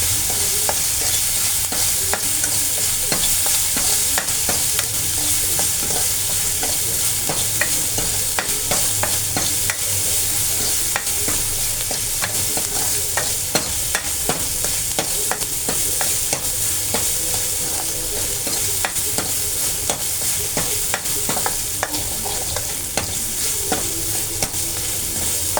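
Small onions fry in a pan with a continuous crackling sizzle, punctuated by frequent ladle scrapes and clicks as they are stirred, with no talk over them.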